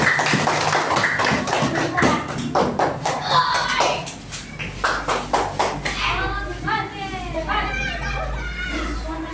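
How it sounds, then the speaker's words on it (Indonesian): A classroom of children clapping together for a group, brisk rapid claps for several seconds that give way to lively children's chatter and voices. "Tepuk tangan kelompok 3"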